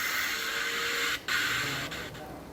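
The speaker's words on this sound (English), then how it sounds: "Then they have to cut the ends of the bolts off because they're sticking out a bit too far." Protruding bolt ends on a wall-mounted unit in a Thai house build are cut off with a steady high-pitched grinding whine that briefly stops and then resumes, heard close by.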